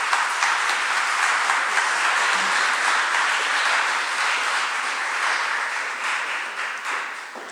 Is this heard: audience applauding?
yes